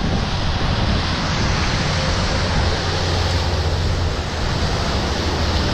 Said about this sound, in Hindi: पानी के बीच में से जा रहे हैं हम।